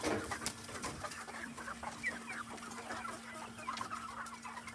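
Meat-bird roosters cluck and chatter steadily inside a chicken tractor, several birds close by, over a constant low engine-like hum.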